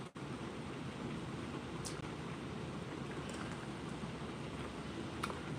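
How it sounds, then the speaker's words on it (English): Heavy rain pours in a steady, dense hiss that fills the whole stretch, with a few faint clicks on top and no talk. "This is some heavy rain. We're gonna get some serious rain."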